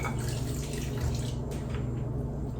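Liquid with yeast pours steadily into a bowl of allergy-friendly pizza dough, a continuous close splashing trickle without a break.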